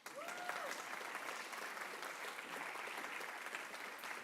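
Audience clapping at a university lecture, a fairly soft but steady wash of applause from a room of people, sustained evenly for the whole stretch.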